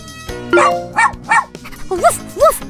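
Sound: puppy barking in the Super Why puppy day care game

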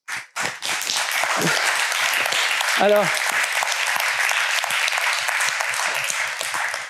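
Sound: audience applause

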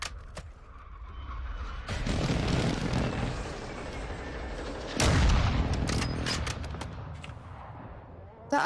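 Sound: airstrike explosions in Call of Duty Warzone video game

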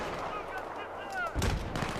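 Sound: gunfire and shooting in a video game

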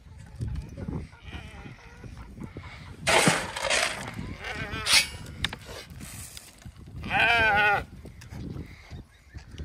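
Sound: sheep bleating as flock approaches

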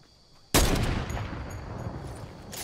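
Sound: sniper rifle shots in Fortnite video game

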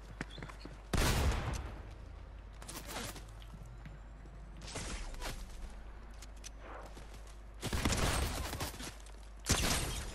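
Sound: gunfire in the video game Fortnite

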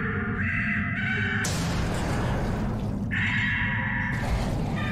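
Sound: giant crow cawing in video game BioShock Infinite

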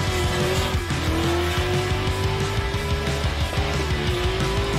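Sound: car drifting with tire squeal at Drift Matsuri

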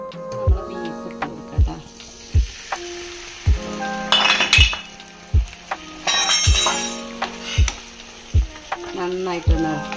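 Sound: sautéing turmeric and coriander powder for beef recipe

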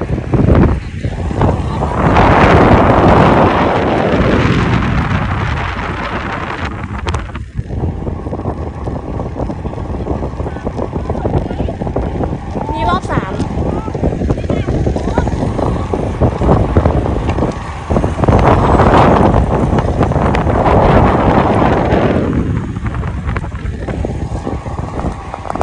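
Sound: strong wind blowing on the racetrack

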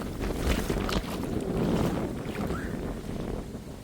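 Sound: wind

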